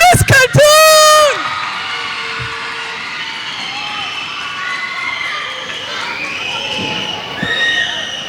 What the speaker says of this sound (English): Give a big round of applause to Miss Zainab and Miss Khartoum.